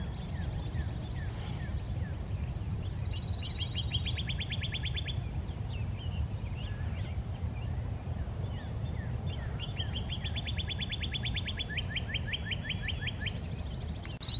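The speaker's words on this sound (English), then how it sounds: "So many little birds flying around." Small wild birds chirp and trill repeatedly in a park on a cold spring morning, bright twittering phrases rising over a steady low outdoor rumble and wind.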